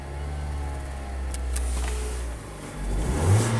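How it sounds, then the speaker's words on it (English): A Mazda engine with a rich-running idle fault is revved by a throttle blip, the low engine drone swelling into a brief rise near the end. The sound is close and steady, and no one speaks. "I'm going to blip the throttle."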